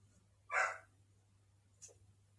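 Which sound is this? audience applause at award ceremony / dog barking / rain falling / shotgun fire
dog barking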